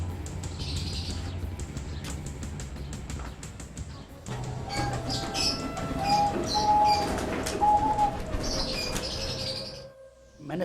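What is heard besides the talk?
pigeons being released to fly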